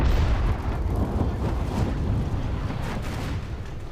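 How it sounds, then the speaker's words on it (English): A battleship's magazine detonates in War Thunder Mobile naval combat, a loud sustained rumbling blast that rolls on for several seconds with dense low-end roar and slowly fading debris noise. "that was a magazine explosion"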